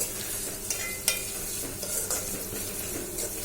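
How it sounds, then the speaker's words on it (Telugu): Onions frying in a pan for Telugu bitter gourd pulusu, a constant close sizzle with a spoon scraping and stirring, plus a sharp metal tap partway through. "సో చూసారు కదండి, ఆనియన్స్ వేగిపోయాయి"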